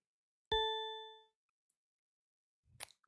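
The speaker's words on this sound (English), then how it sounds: "Going to go to the bell, and the bell is extremely loud." The bell preset of the BitInvader synth in LMMS strikes once, loud and bright, ringing and fading over under a second, followed by a faint click and a short soft rustle.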